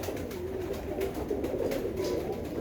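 White Kaldum pigeons, a flock of about 28, coo softly and steadily in a continuous low murmur with no voices over it.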